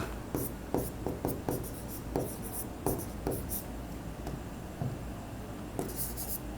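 Pen writing on paper during a handwritten accounting journal-entry lesson, a run of short scratchy strokes and taps in an uneven rhythm, close and moderately loud, with faint low background noise.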